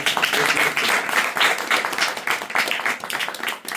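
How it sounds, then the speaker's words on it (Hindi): Audience applause at a church meeting in Jalandhar, Punjab, a dense, steady clapping that fills the room for several seconds, loud and continuous, then thinning slightly near the end. "जोरदार तालियां परमेश्वर की"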